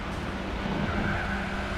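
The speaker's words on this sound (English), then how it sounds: "He's going to slam on the brakes there, I think." A car in the Gran Turismo 4 racing video game brakes hard, its tires squealing briefly over a loud, steady engine and road roar.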